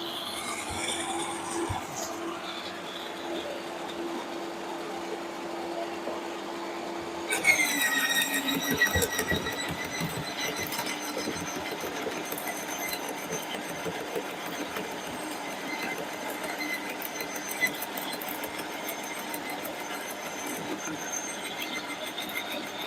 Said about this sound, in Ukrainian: Сейчас покажу, як працює. Підключив, вмикаємо, беремо гілку.